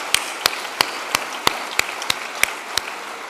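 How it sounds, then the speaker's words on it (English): Scattered handclaps from an audience thanking volunteers at a memorial lecture: about nine separate, crisp claps at uneven intervals over a quiet room hiss, rather than a full ovation. "Can we just give the volunteers a round of applause?"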